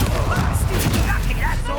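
An Incendio fire spell is cast in Hogwarts Legacy, a dense, roaring blast with a heavy booming low end that fills the whole moment at close range.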